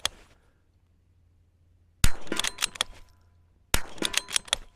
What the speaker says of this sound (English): it's shooting the cartridges out at like 130